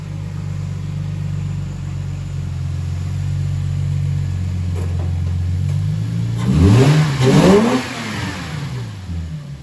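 A Lexus IS300 engine idles with a low steady rumble inside a garage, then revs sharply twice near the end, each rev climbing and falling quickly, close and loud.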